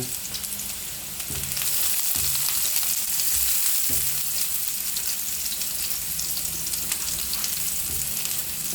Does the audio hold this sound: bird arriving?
no